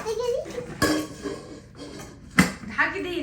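Metal pots and dishes clanking and clinking as they are handled and set down, with a few sharp, close impacts between quieter stretches, while someone talks throughout.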